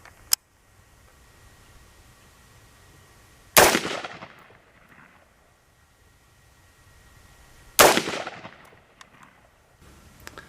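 Two loud, sharp rifle shots fired at a white target about 30 yards away during a green laser sight test, spaced about four seconds apart, each trailing off in a decaying echo in quiet outdoor air.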